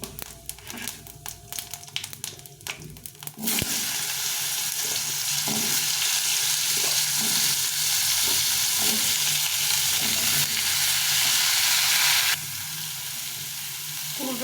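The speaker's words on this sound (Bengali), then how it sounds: "দিয়ে কুমড়োটাকে ভেজে নেবো" Pumpkin pieces sizzle steadily in hot mustard oil with dried red chilli and cumin, a dense close frying hiss that surges loud after a quieter start, with faint stirring scrapes and no talking.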